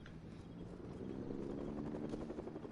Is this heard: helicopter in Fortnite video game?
yes